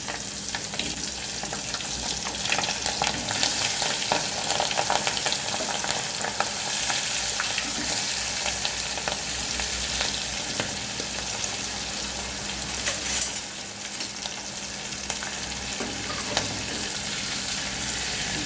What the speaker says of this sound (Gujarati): તેલ ગરમ થઈ ગયું છે હવે આપણે એમાં થોડું જીરું હિંગ અને આપણે જે મરચાં ભર્યા ને એ એડ કરી દઈશું